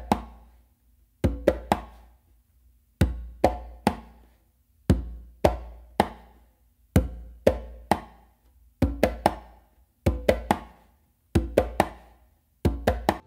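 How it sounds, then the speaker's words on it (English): Conga strokes of bass, palm and closed slap repeat in short bursts, each group separated by brief gaps, dry and close with no voices. "you're going to do a closed slap with your dominant hand on the conga"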